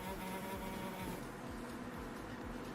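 A small fly buzzes close by in a steady, continuous drone for a few seconds, with no talking over it.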